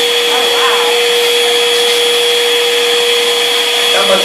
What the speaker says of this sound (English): how much cleaning could anyone get done with the vacuum cleaner?